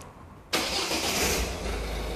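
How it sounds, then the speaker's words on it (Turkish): A 2016 Ford Focus engine starts abruptly after a quiet moment, the starter catching into a loud close burst that settles into a steady idle. "Çalıştırın arabayı."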